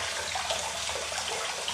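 Warm tap water running steadily for rinsing off makeup, a constant hissing splash at close range with no talk.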